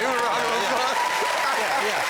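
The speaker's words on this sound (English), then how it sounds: "Oh, the round of applause, Anthony Joshua got." Studio audience applause for boxer Anthony Joshua on a talk show, a dense, continuous, fairly loud wash of clapping and crowd noise with voices talking over it.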